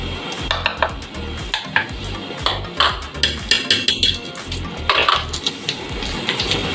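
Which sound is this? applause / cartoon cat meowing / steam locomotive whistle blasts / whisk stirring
whisk stirring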